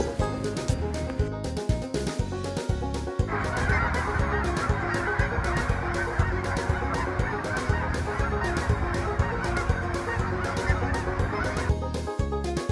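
A large flock of Canada geese migrating to Texas, honking continuously in a dense, overlapping chorus that stays loud and steady throughout, with no talking.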